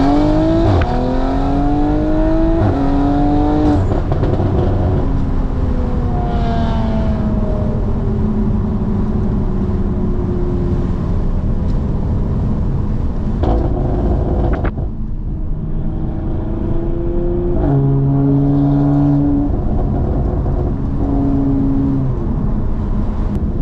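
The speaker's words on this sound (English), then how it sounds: "Here, a little wide open throttle from 40." A modified Audi RS5 accelerates at wide open throttle from about 40 mph, its engine rising in pitch through successive gears with brief dips at each shift, loud and steady from inside the cabin.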